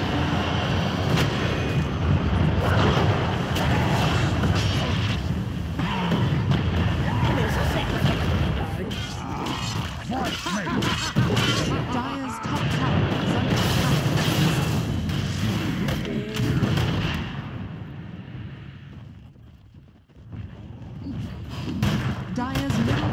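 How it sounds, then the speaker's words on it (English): A tower under attack in a Dota 2 match, a dense stretch of booming impacts, thuds and battle effects under game music, with a voice speaking over the fight. "Radiant's bottom tower is under attack."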